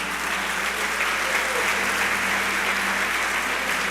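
A church congregation claps together, dense continuous applause filling the room at steady volume from start to finish.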